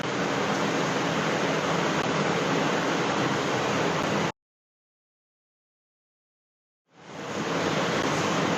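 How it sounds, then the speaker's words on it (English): Water is poured into flour for a stiff Punjabi samosa dough, making a loud, even hiss that stops abruptly for a few seconds of silence and then resumes. "We need a stiff dough, so add water very carefully."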